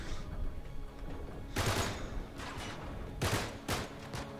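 Gunfire from a shooting battle in the video game Uncharted 3: Drake's Deception, with three loud, sharp bursts of shots spaced a second or so apart over a steady background of game ambience.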